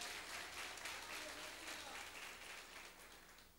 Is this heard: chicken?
no